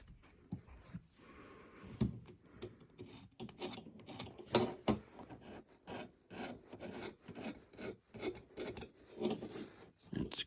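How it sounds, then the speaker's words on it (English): A knife blade scrapes caked dirt off a part from a 2001 Arctic Cat Mountain Cat snowmobile, giving close, irregular rasping strokes in uneven bursts with brief pauses between them. "Just gonna scrape all that off."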